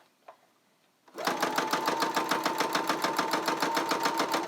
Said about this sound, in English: Always backstitch at the front or the start of your sewing.